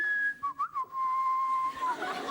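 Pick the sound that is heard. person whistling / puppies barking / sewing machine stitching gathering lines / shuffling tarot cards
person whistling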